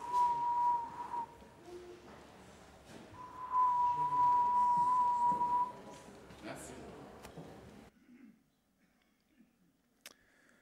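A steady whistled tone around mid pitch, held in two long notes with a pause between, followed by some quieter handling noises and near silence.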